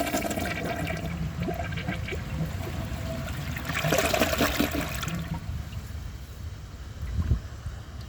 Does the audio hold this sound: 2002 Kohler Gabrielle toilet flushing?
yes